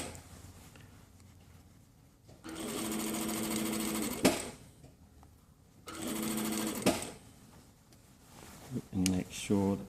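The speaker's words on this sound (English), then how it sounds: "all we're going to do is stitch the neckline together" A sewing machine stitches a garment neckline together through fabric layers. It runs in two sustained, steady-buzzing bursts of about two seconds each, then gives a few short stop-start spurts, close by, with quiet pauses between runs.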